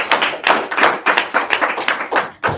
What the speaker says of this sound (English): Give Carl a round of applause.